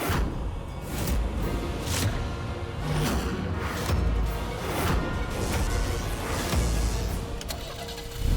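A car engine turns over and catches, then runs in a steady rumbling idle with repeated surges, close by and with no talk over it.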